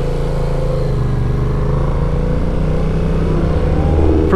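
A small Toyota with negative camber on its front wheels and a custom paint job drives by, giving a loud, steady engine hum that lifts slightly near the end.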